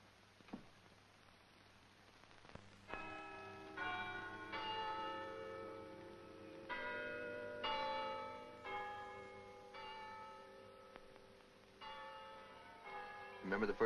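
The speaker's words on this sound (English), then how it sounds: "Remember the first time I heard those bells, Scatters?" Church bells in Oxford ring out in a slow, overlapping peal, each strike blooming into a long, resonant hum that hangs in the air. The tolling sounds moderately distant and fairly quiet, with no talk over it.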